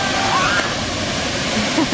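Broadband rushing of a waterfall at a family swimming spot, a steady wash of water noise through the whole moment with children's voices and shouts faintly over it.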